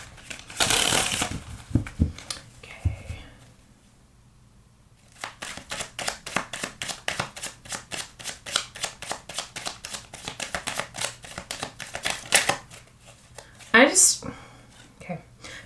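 Tarot cards being shuffled by hand during a reading, with a burst of handling, a pause, and then a long, fast, even riffle of sharp card flicks close to the microphone, with a brief spoken word near the end.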